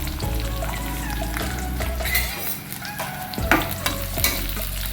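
Onion, ginger and shallots sauté in coconut oil, giving a loud, continuous close sizzle with the scrape and shuffle of stirring throughout.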